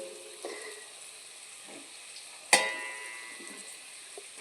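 Steady sizzling of pre-cut ingredients frying in a pan, with soft stirring scrapes and one sharp clatter midway as more pieces drop in, moderately close and without talk.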